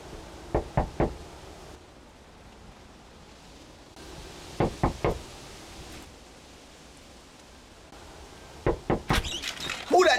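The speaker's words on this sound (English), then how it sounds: "Knocking at my door like the police." Three groups of sharp knocks on a door, each a quick burst of three or four raps separated by a few seconds of quiet room noise, close and loud.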